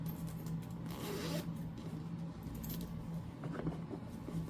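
A zipper on a handmade bag is drawn open in a few short rasping pulls, close and fairly quiet, with no talking.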